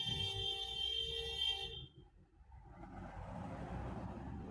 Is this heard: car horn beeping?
yes